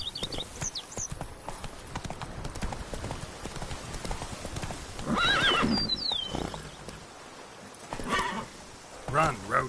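Roach the horse gallops in The Witcher 3 with steady clip-clop hoofbeats, several loud whinnies and neighs rising midway and near the end, under ambient game sound and occasional voices.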